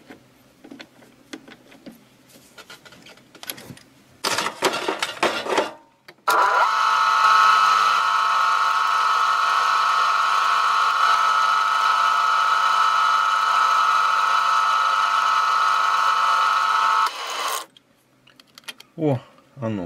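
A lathe turns a short piece of aluminium wire down to fit the hole in a kitchen knife handle, giving a steady, loud whine with a constant tone for about eleven seconds. Brief clattering and handling noises come before and after.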